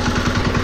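A tractor stuck in a wet, waterlogged sugarcane field runs its engine in a steady, throbbing low chug, loud and close, with a rhythmic pulse for the brief moment.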